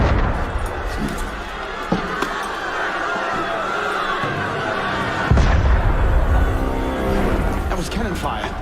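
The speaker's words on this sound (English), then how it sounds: "That was cannon fire." Cannon fire booms in an Assassin's Creed game scene, several heavy blasts and bursts over a busy crowd din, with voices talking throughout.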